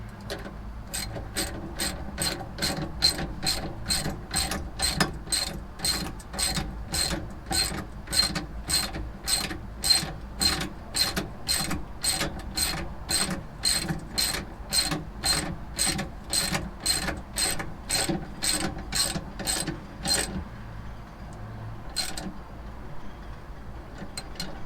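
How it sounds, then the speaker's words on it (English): A ratchet spanner tightens nylock nuts on engine bolts through a bulkhead, giving a long, even run of close, sharp clicks for about twenty seconds that then stops. "I've got a nut on the bottom of these, just hand tight on because they are nylocks. So I'm just going to put a spanner on the bottom."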